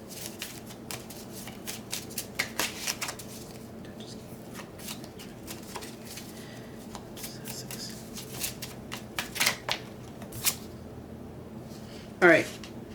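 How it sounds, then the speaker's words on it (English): Tarot cards being shuffled and drawn by hand, a soft papery riffling and flicking that runs through most of the stretch, with brief slaps as cards are laid down and one sharper burst near the end. "I'm going to say this is Harry, and we need one more card for Meghan."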